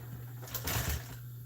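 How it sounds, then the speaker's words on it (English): An upholstery sewing machine runs steadily while stitching auto seat upholstery, a brief humming burst of motor and needle with no voices. "Let's sew around."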